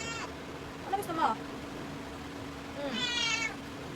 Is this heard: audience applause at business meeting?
no